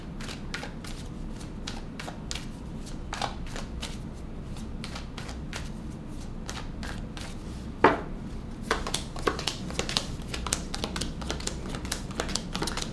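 Tarot cards shuffled and laid out one by one, a steady run of crisp card flicks and taps close up, with a sharper slap near the middle and no talking.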